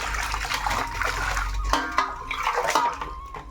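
Cut river fish rinsed in water by hand, with close sloshing and gurgling, a few splashy strokes and drips over a few seconds, no speech.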